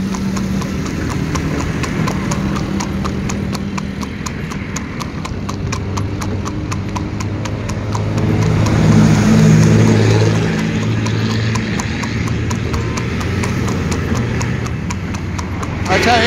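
A mare pulling a horse cart along a road, with steady rhythmic hoof clip-clops close by, a passing vehicle engine and people talking over it.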